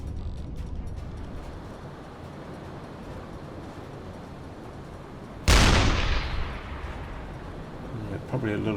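Single deck gun shot from a U-boat in a submarine video game, a sudden loud boom with a long decaying rumble over a steady background of sea and engine noise.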